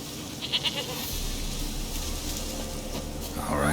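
A goat bleats a few times in The Witcher 3 video game, against a steady layer of ambient game sound and background music.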